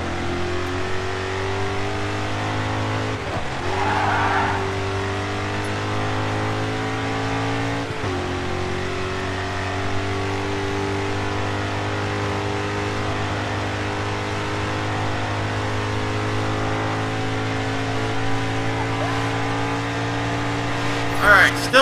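A Camaro race car in the racing game GRID 2 roars at sustained engine pitch, dipping and rising as it slides and fishtails, with brief tire scrubs, while someone talks over it.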